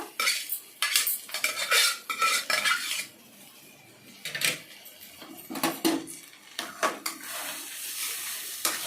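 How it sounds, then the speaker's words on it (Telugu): A spoon scrapes and stirs drumstick leaves and toor dal tempering around a metal pan in repeated bursts, with clinks against the sides and a faint sizzle underneath. "బాగా కలపాలండి"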